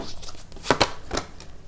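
Tarot cards being shuffled and drawn by hand, a quick papery riffle with two sharp snaps close by, then a softer slide, brief and near with no voice.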